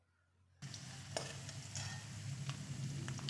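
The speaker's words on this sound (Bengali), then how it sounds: "এইদিকে লাল লাল করে আলুগুলোকেও ভেজে নেওয়া" Potatoes sizzle steadily in hot oil left over from frying fish, the hiss beginning abruptly and holding continuous and close, with occasional stirring clinks and pops.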